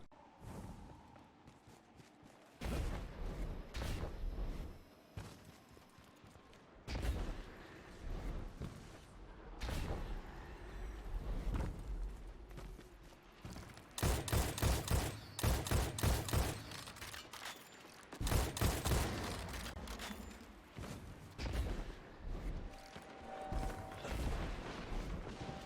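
Scout rifle fire from the Patron of Lost Causes in Destiny 2, loud bursts of shots in spaced volleys with booming impacts and whooshes between quieter stretches, no voices.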